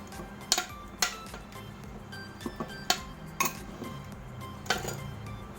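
Tofu and pork being stirred in a pan: intermittent sharp clinks and scrapes of a utensil against metal, spaced irregularly over a quiet kitchen background without talk.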